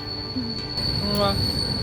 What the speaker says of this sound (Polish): Jedzie nasz pociąg, Juka